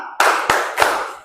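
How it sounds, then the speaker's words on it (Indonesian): Three sharp group claps ring out in a classroom chant, evenly spaced and loud, each with a short bright decay. "Tepuk tanda dewasa."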